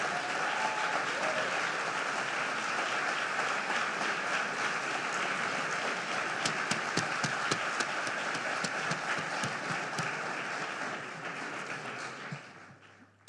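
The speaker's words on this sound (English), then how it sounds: "Please give a round of applause for Tiny Hearts." Audience at the Nigerian Economic Summit giving sustained applause, a broad even roar of many hands clapping in a large hall that holds steady before tapering off at the end.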